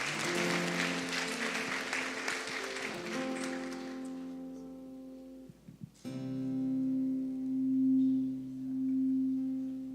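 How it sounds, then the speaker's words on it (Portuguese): A church congregation claps in praise for about six seconds, a dense crackling wash of applause over sustained organ or keyboard chords, then the clapping fades and the held chords continue alone. "louva o Senhor com suas salmas de palmas, glorifica o nome de Jesus"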